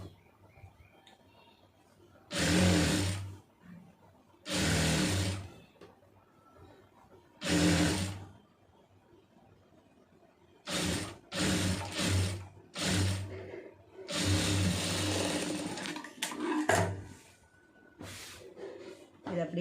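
Sewing machine stitching fabric, several loud bursts of rapid mechanical whirring separated by pauses, close by, with quieter handling sounds in between.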